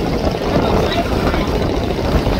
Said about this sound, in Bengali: দেখতে পাচ্ছেন ছেড়ে যাচ্ছে দুটি লঞ্চ একসাথে